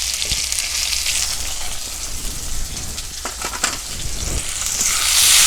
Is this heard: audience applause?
no